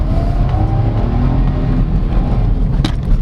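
A 67-horsepower 2023 Suzuki S-Presso city car with a manual gearbox drones steadily from inside the cabin while driving, its low engine hum and road noise loud and continuous.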